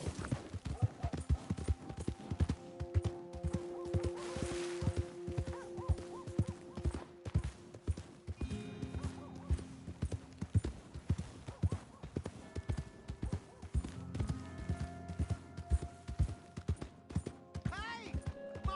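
Horse hooves clip-clop steadily in Red Dead Redemption 2, a continuous rhythmic trot throughout, faint and under background music, with voices talking over it at times.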